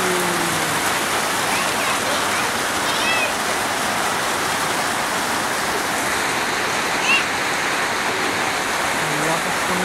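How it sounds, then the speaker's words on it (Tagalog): Heavy rain pouring down steadily, a dense loud hiss throughout, with faint voices and a few chirpy sounds in the background. "Ang lakas ng ulan."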